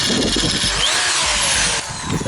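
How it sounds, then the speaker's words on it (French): A corded electric drill runs at high speed, giving a loud, steady whine with a rough grinding edge, close up and without talk, during work on a Jeep Cherokee XJ. "on va tester cette perceuse"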